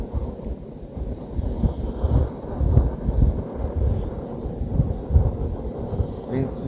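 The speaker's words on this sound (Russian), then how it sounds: "горелка на ветру работает." A camping gas burner runs outdoors by Lake Seliger in gusty wind, giving a continuous close, low roar with uneven buffeting surges.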